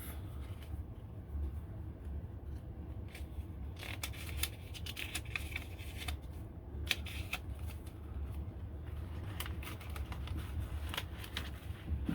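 Scissors snip through paper while making a wallet journal, a string of quick, crisp close-up cuts and rustles over a low background hum, with no talking.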